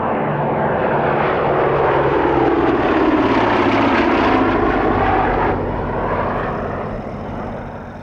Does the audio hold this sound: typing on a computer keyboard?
no